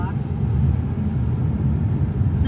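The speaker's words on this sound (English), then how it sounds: "Sorry, that truck's loud." A loud passing truck's heavy engine rumble with a low drone dominates the clip, passing close by, loud and continuous throughout.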